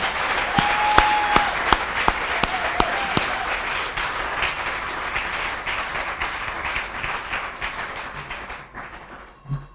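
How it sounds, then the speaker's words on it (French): A church congregation bursts into applause, a dense wash of clapping with a few sharp individual claps standing out early, holding steady before tapering off near the end. "Applaudissons alors pour le Seigneur."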